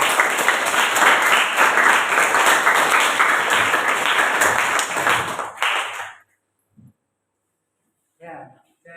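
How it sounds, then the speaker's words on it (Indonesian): A classroom of students applauds a classmate after a history presentation, steady loud clapping that cuts off abruptly, followed by brief quiet talk. "kita kasih aplaus untuk teman kalian"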